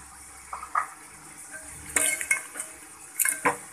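Chili and coriander spices are roasted and stirred in a pot, with a spoon scraping and clinking against the metal in quick, irregular bursts over a faint sizzle, close and fairly quiet.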